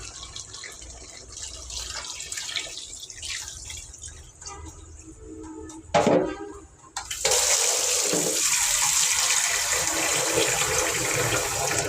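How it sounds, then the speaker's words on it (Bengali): Water poured into a cooking pot of curry with fried greens, a sudden splash and gush that turns into a loud, steady hissing stream after quiet kitchen dripping and clinking. "এখন পানিটা দিয়ে দেবো আমি।"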